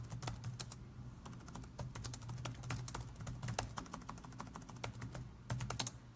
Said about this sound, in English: I'll just type up something real quick.